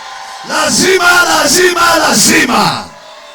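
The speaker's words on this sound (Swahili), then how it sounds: "Ongeza na mimi kelele, sema amina. Piga vigelegele, haleluya." A loud church congregation at an Easter service shouts and ululates together in rising, wavering cries, several surges of massed voices close by, fading out at the end.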